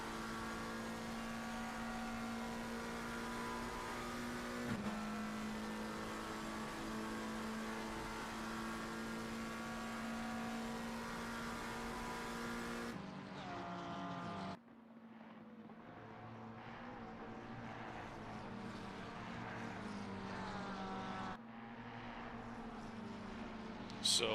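A McLaren race car in a racing video game drones steadily at high revs at Watkins Glen, a sustained engine tone that cuts abruptly to a thinner, shifting roar and then back, continuous with no breaks.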